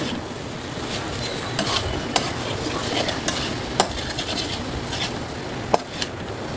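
Boiled chowmein noodles being stirred and tossed in a hot frying pan, a steady sizzle with scattered sharp scrapes and clacks of the utensil against the pan, close and continuous without talk.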